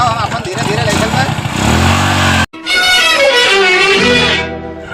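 Motorcycle engine running loud and close with a steady rough drone, cut by a brief pause before resuming, heavily overlaid by talking and music.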